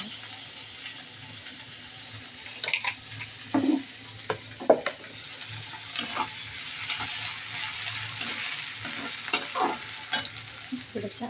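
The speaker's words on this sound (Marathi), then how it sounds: "तेलामध्ये कढीपत्ता टाकला, कांदा टाकला" Curry leaves and onion fry in hot oil, a soft steady sizzle with scattered pops and stirring clinks of a spoon against the pan.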